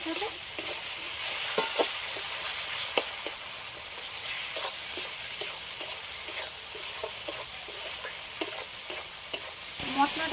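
Spice masala sizzles and fries in a pan while a spoon scrapes and stirs it, giving steady close frying hiss broken by repeated sharp scraping clicks, with no one speaking.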